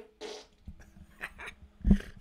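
A fart noise played during a trivia game show, a short blatty burst near the start, then scattered fainter sputters and a louder low blast near the end.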